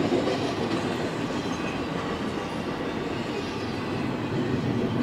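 A CSX intermodal freight train rolls steadily past on a nearby track, a loud, continuous rumble of wheels and cars with faint clickety-clack, and no speech.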